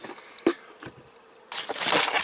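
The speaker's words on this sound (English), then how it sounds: "Just turned it over to dump them bees out of it" Bees buzz as a wooden hive box is turned over and dumped out, with a couple of knocks followed by a dense, close swell of buzzing.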